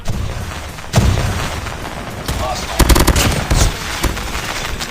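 Rapid automatic bursts from a fully modded Fennec SMG in Call of Duty Mobile deathmatch, loud sustained rattling fire with sharp peaks, dense game sounds around it and no talk.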